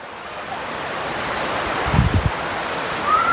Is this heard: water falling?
yes